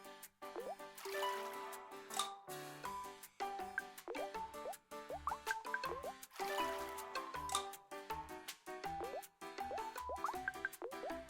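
Cartoon water flows through a pipe puzzle in Pokemon Friends, heard as a soft, bubbly stream of drips and plops set against light, rhythmic game music, quiet and steady throughout.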